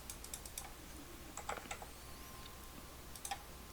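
Keys clatter on a computer keyboard in short, light bursts of typing at a desk, quiet and close, with no talking.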